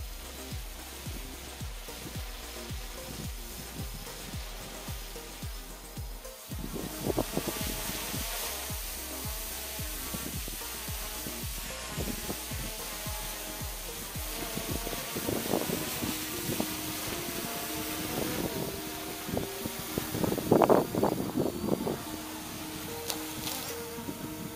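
A Hubsan H501A X4 Air Pro quadcopter drone's steady buzzing whine hovers nearby as it returns to its takeoff point, shifting in pitch as it descends, with wind noise and a few thumps near the end as it lands somewhat roughly.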